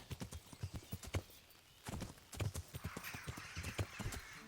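Horse hooves clip-clopping in steady close steps in Kingdom Come: Deliverance, with a whinny rising near the end and no speech over it.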